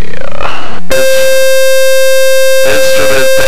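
A loud, steady electronic tone from the high current alarm on an RV7 aircraft's instrument panel sounds for about two seconds, set between stretches of cockpit and engine noise.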